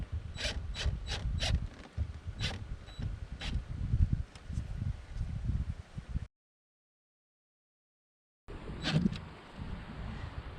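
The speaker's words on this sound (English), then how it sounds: "Let's go ahead and start screwing this in." Screws being driven into a boat deck access hatch: a rapid burst of sharp ratcheting clicks, then steady grinding and rubbing from the driver and screw biting into the deck, up close, with a short silent gap before it resumes.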